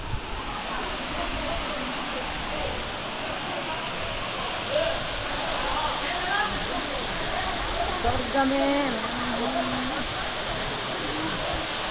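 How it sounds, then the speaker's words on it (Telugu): A waterfall roars in a constant, full rush of water, with people talking faintly beneath the noise. "చూడండి వాటర్ ఫాల్స్."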